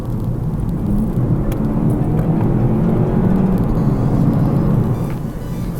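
A Volkswagen Golf GTE plug-in hybrid in GTE mode accelerates hard with its engine and battery together, giving a steady, close engine roar and cabin drone that holds without a break and carries no talk.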